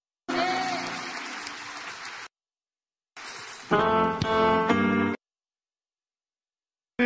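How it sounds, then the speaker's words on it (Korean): Church congregation applauding in thanks during a worship service, two sustained bursts of clapping separated by a pause, the second swelling louder and mixed with voices and music. "오늘도 새해를 행하실 주님께 감사의 박수를 드리겠습니다"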